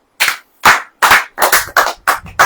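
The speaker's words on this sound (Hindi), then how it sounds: "ताली बजाइए" A congregation at a church sermon claps in unison, six or seven sharp, loud, evenly spaced claps with brief silences between them.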